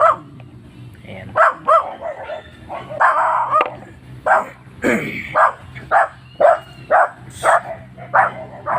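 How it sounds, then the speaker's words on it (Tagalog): Several dogs bark in quick repeated bursts, nearby and loud, with yips and whimpers, while a person talks in between. "Ingay ng mga aso."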